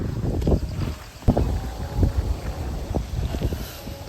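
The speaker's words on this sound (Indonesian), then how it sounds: "Anginnya lumayan kenceng." Strong wind blows across a hillside campsite in the morning, a steady rushing roar with low buffeting gusts against the microphone and scattered soft knocks.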